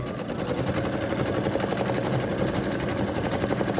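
An embroidery machine stitches out a bicycle key fob, giving a steady, close mechanical whir with fast repetitive needle chatter, continuous and even throughout with no talking.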